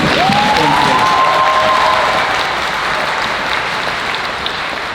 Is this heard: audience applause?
yes